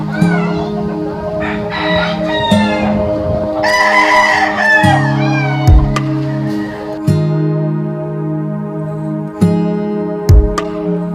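Several roosters crow loudly in turn, long drawn-out calls overlapping with clucking and other farmyard fowl sounds nearby at a gamefowl farm with stags.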